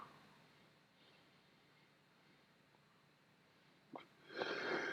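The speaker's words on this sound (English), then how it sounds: "I feel like I need to sneeze" A single close sneeze bursts out at the end after a quiet stretch of room tone, with a short sharp inhale just before it.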